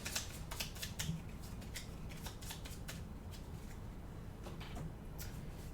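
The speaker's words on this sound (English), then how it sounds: "On the event deck, we'll give a good shuffle." A deck of event cards for the Final Girl board game gets a quick shuffle, with soft papery riffles and taps repeating over several seconds, close up and quiet, with no talking.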